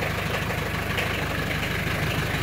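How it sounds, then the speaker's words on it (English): A small red tractor engine idling after starting, a steady close chugging rumble with a regular low pulse and no talking. "There's the tractor sound there."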